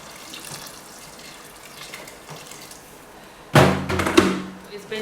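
Water poured into a pot of assorted meat pepper soup, a sudden splashing gush near the end after quieter kitchen clatter and faint background noise.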